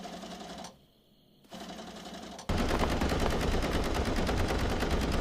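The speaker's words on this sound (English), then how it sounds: "I do not buy that those loud pulsing mechanical sounds were just a normal sewing machine." A mechanical sewing machine in an anime scene stitches in loud, rapid, evenly pulsing bursts that drive on steadily after a short hush and a quieter passage.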